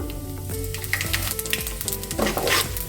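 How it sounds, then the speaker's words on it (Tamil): Mustard seeds and chana dal frying in hot oil for a ponnanganni keerai stir-fry, a loud close sizzle with sharp popping crackles throughout and a stronger burst of spattering near the end. "கடுகு வெடித்தது கொஞ்சம் போல் கடலைப்பருப்பு. கடலைப்பருப்பு செவந்தது சீரகம்."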